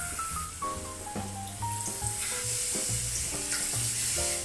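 Carrot tempura deep frying in hot oil, a steady loud crackling sizzle filling the whole stretch, with faint music and no talk over it.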